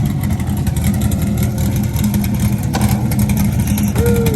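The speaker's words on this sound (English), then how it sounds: "See, let me get the starter real quick." A sports car's engine rumbles steadily and loudly at a car meet. The low growl holds close and constant throughout, with no voices over it.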